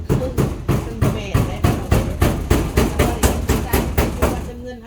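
Steady, rapid hammer blows, roughly three per second, ringing out close and loud in an even rhythm.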